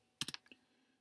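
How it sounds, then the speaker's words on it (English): A brief flurry of four or five quick key clicks on a computer keyboard while a web address is typed, faint and close, with no talking. "In the web address, you type in"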